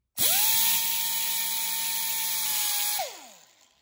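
A power tool whines steadily for about three seconds while cutting a small flat groove into a model airplane axle, then spins down as the tool is released.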